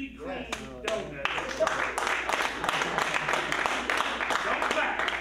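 An audience at a lounge event claps in a dense burst of sharp, overlapping hand claps that continues steadily with voices mixed in.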